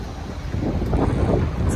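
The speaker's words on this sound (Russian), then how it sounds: "И ветер такой." Steady wind buffets the microphone with a low rumble that builds slightly midway, no voices.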